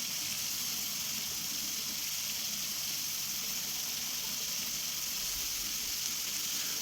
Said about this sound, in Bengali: এরপর আমি ভাজবো একটু উচ্ছে আর বেগুন।